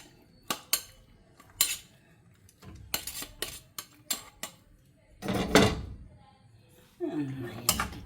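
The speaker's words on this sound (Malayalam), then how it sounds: "നന്നായി ഇളക്കി ചേർക്കാം." Pasta with paneer is stirred in a pan, a spoon scraping and clinking against the metal in a series of sharp knocks and short scrapes, fairly close, with a longer scraping stir near the end.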